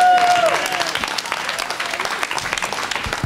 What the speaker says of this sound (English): a round of applause for Russell Lewis Schultz and his two great